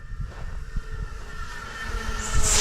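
An AtomRC Penguin twin-motor FPV model airplane in flight gives a steady, droning propeller buzz that holds throughout and swells louder toward the end.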